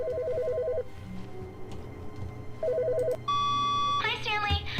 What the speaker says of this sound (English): one of the phones is ringing.